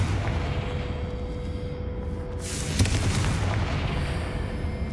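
A Confringo blast spell in Hogwarts Legacy bursts into a broad fiery explosion partway through, swelling out of dense, continuous game noise and rumbling on without any talk.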